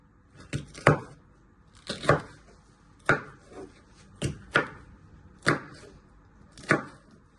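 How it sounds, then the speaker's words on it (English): A knife chops food into little pieces on a board as Mexican picadillo is prepared, with sharp, close strikes falling in uneven pairs and singles and short pauses between them. "Turn it around and chop it into little pieces."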